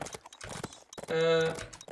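Cartoonish horse hoof clip-clops from the Adventures with Horses mobile game patter unevenly, followed by a brief sustained tonal game sound, all fairly quiet.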